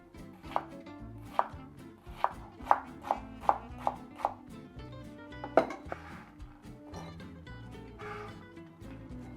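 A knife chops a carrot into small cubes on a board for a classic Bolognese sauce, about nine crisp, evenly spaced taps followed by a louder strike and softer handling noises.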